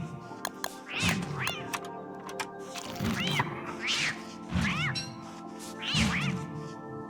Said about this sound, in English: the catcoons and the frogs have been going at each other